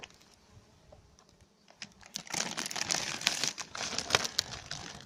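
A plastic bag is pulled off a beehive frame in an apiary during spring inspection. Faint rustling at first builds into loud, close crinkling with sharp irregular crackles for several seconds.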